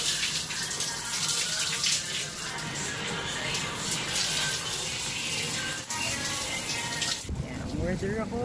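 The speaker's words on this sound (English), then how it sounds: "Maliligin na ako." A tap runs steadily filling a bath with a continuous close gushing rush of water that shifts in tone near the end, with no talking.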